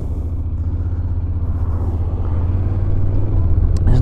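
Honda NC750X DCT motorcycle's parallel twin engine running under way, a steady low rumbling throb with wind noise that grows slightly louder toward the end.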